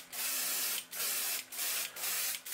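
Short bursts of an airbrush or spray gun laying a coat of paint onto a fishing lure, five hissing sprays in a row separated by brief pauses, close and alone.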